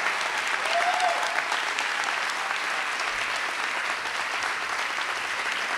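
An audience at a school convocation claps steadily, a dense, even wash of applause from a large crowd that holds at a constant level throughout.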